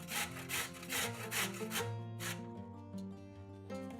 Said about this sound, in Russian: Одну морковь трем на крупной терке.